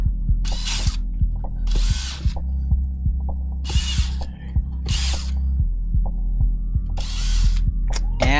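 Screws come out of a combat robot during a teardown, with repeated sharp ratcheting clicks from a screwdriver and bursts of hissing mechanical whir, loud and close over a steady low hum.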